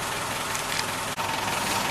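A Tracker's engine idles while warming up after a coolant leak repair, a steady close hum with a brief dropout partway through and no talking.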